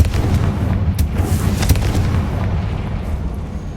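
A Confringo spell explodes in the Hogwarts Legacy video game, a few sharp booming blasts in quick succession over a rumbling game background, with no voices.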